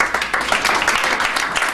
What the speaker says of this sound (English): I want the record to show that I did applaud for Mayor Booker.